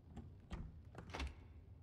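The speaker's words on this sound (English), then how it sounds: "A giant door." A giant door opens in the video game Homefront: The Revolution, giving low, faint rumbling thuds and a sliding scrape over a couple of seconds.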